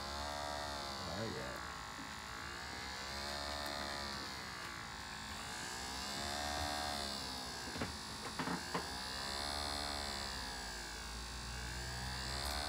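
Motor of an LG dishwasher with an LE error, running as a faint, wavering electric buzz with a fluttering hum and a few small clicks near the end.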